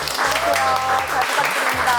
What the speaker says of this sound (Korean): 오늘 신입생 학배우 다시 우리 박수로 맞이해